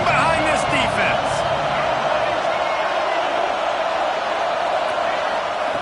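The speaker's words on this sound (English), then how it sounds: "this crowd is getting behind this defense" Football stadium crowd roaring steadily through a tense third-down defensive stand in the red zone at a college game, a dense, loud wall of cheering with a commentator talking over it.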